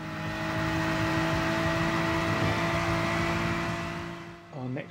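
A Gr.4 race car in GT Sport accelerates uphill at Autodrome Lago Maggiore, its engine a continuous, even drone that holds for several seconds before easing off near the end.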